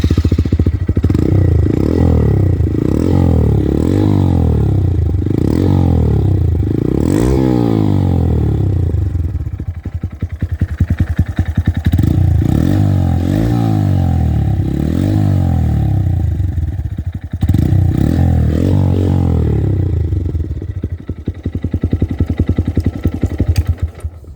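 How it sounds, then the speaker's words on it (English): A Honda Monkey motorcycle with an aftermarket exhaust fires up and runs loud and close, with repeated throttle blips rising and falling in pitch, then a lumpy idle and more revving. "Let's give it a start yet."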